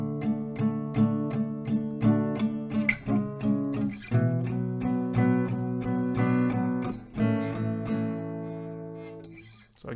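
Acoustic guitar strumming a chord progression, with repeated rhythmic strums on one chord and then changes to new chords, clear and close with ringing sustain at the end.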